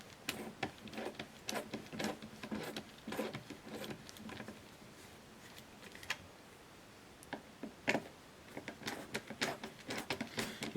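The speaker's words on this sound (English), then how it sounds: "each driver has a little bezel holding it in with 4 Phillips screws, so we'll just look at removing these now" Phillips screws being backed out of the bezel on a speaker driver, quiet close-up clicks and small scraping taps in irregular clusters, with pauses between turns.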